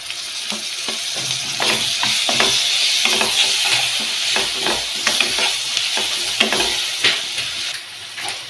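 Tomatoes sautéing in hot oil in a pan for a hyacinth bean curry, with a loud, continuous crackling sizzle broken by repeated stirring scrapes and clatters throughout.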